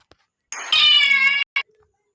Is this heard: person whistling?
no